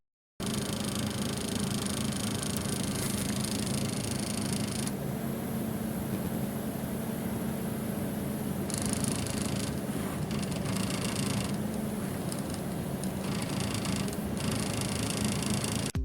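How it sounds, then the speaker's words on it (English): A broken fan bearing on a Radeon 260X graphics card gives a steady whirring, rattling hum that runs through the whole stretch at moderate level, with shifting hiss above it. "it stated that the fan bearing was broken. It seems to still turn okay, but when plugged in, there is definitely a noise."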